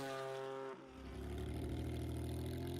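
A car engine in Forza Horizon 4 idles with a steady tone, briefly dips, then revs up into a loud, sustained rumbling roar.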